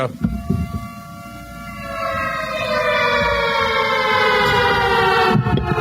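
A loud air raid siren wails steadily, its pitch slowly falling over several seconds, with faint background noise underneath.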